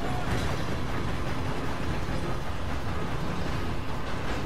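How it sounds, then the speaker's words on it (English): A fast-moving train in the video game Red Dead Redemption 2, a steady, dense rumble and rattle of wheels and cars that fills the scene continuously at close range. "This train's fairly fast."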